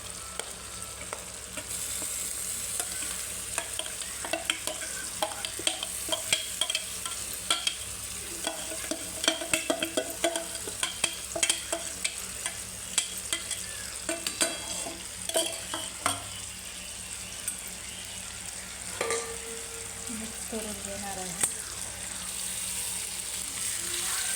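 Soybean paste stirred into frying masala for veg soybean biryani in a pan, a steady sizzle under repeated scraping strokes of a spoon and occasional clinks against the vessel.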